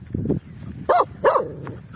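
A dog in an open dumping area in the Philippines gives one low woof, then two louder, sharper barks in quick succession, close by.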